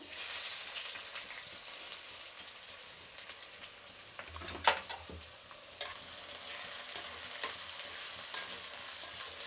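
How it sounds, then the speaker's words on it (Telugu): Onions frying in hot oil with cinnamon and cloves in a pan, a soft continuous sizzle with a brief louder stir or clatter partway through, fairly quiet overall. "ఇప్పుడు ఎర్రగడ్డలు వేసుకునేద్దాం"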